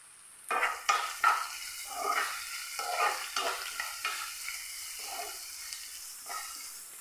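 Masala for masala idli frying with chili flakes in a pan, a soft sizzle under repeated spatula stirring strokes and scrapes, close and moderately loud.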